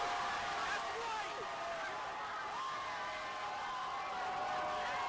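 Washington Capitals fans crowd cheering in a continuous, steady roar of many voices and shouts, loud and dense throughout, with speech mixed into the noise.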